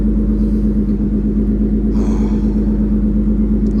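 A car engine runs after a fried ECU was replaced with a new one and retuned: a loud, steady, close-up idle rumble with no talking.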